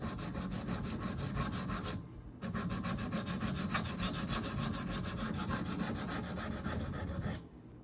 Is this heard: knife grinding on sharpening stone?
yes